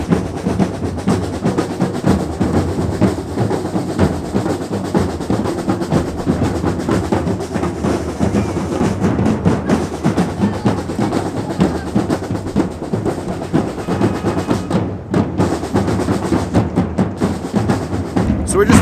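A street band drumming in Ponta Delgada on São Miguel in the Azores, rehearsing for a New Year's celebration: a dense, steady, loud rolling beat that runs without pause throughout.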